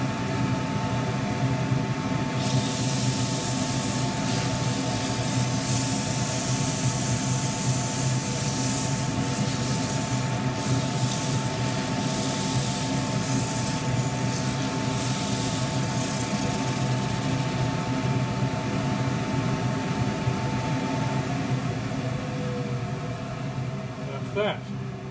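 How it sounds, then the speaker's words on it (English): A dust extractor runs steadily beside a woodturning lathe, a loud constant roar with a faint hum that holds for the whole stretch and starts tapering only at the very end. "get my dust extractor on"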